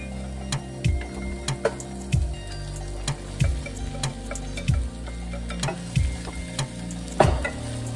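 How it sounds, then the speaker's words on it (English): Mushrooms tossed into a hot frying pan for a shrimp and mushroom dish, sizzling steadily while a utensil stirs with repeated scraping clanks, close and fairly loud, with no talking. "So now I'm gonna add the mushrooms."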